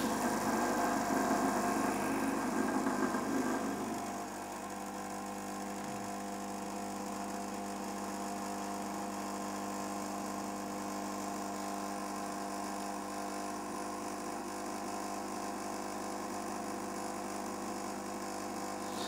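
A Lelit Glenda PL41 espresso machine brewing, a steady pump hum with a loud, broadband burst for the first few seconds, then settling into an even, continuous drone with no talking.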